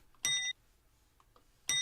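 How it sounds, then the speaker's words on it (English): A bright bell sound effect rings twice, each a short metallic ding about a second and a half apart, loud and crisp against near silence. "Where's the bell? There it is."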